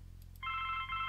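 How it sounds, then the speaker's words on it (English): Telephone ringing in The Blackwell Legacy adventure game, a short electronic ring tone that starts after a brief low hum and holds steady, clear and alone. "getting yet another phone call"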